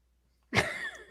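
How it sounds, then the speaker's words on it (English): After a moment of silence, a single harsh cough bursts out nearby, followed by a short trailing rasp. "I keep coughing a lung out"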